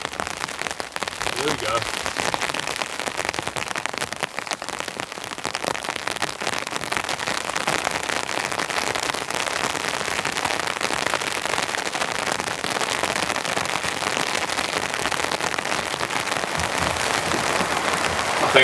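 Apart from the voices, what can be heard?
heavy rain falling on a wooden shack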